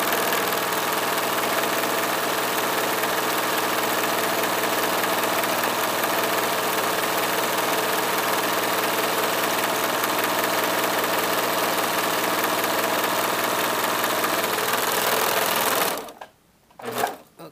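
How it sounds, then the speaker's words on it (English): A serger overlocker trimming and serging the unnotched edge of a pants waistband, a loud continuous whirring chatter sustained for about sixteen seconds before cutting off, followed by a couple of brief restarts. "The first thing I want to do is serge the unnotched edge."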